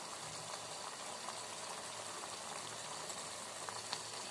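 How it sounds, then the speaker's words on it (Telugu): Tomatoes simmer in a pot over a low flame, giving off a steady, faint bubbling hiss that runs evenly throughout with no voices. "ఇది కొంచెం టమాటా ఉడకాలి కదా, కొంచెం చిన్నగా పెడితే ఉడుకుతుంది."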